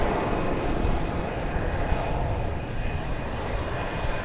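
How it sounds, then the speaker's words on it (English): Frontier Airbus A320 airliner at DFW Airport, a steady broadband roar of jet engines held at a constant level throughout, with a thin high tone pulsing at a regular rhythm above it. "It's going to Las Vegas, Nevada on that Airbus A320."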